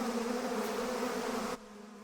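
A swarm of Africanized killer bees in the southern United States makes a dense, steady, loud buzzing drone that cuts off abruptly near the end.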